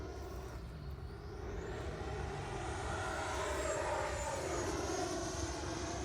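An FMS Avanti 90mm electric ducted fan RC jet flies past, its turbine-like whoosh rising and swelling as it draws nearer and sweeps through, loud and continuous with a shifting pitch.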